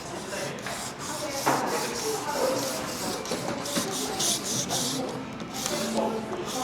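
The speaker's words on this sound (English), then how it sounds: "use sandpaper to help wipe them down a little bit to make them smooth" Continuous scratchy rubbing of sandpaper against a surface, steady and close, with repeated back-and-forth strokes.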